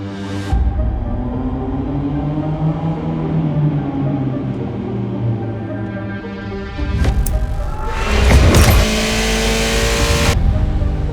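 A Subaru BRZ sports car, also sold as the Toyota GT86, accelerates hard on a race track, its engine revving and climbing through gears with a louder surge and brief tire noise near the end.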